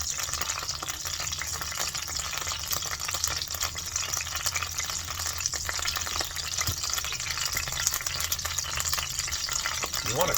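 Hot oil frying steadily in a skillet while Mongolian beef is cooked, a dense continuous crackling hiss that stays even and fairly close for the whole stretch, with light stirring clatter and no talk.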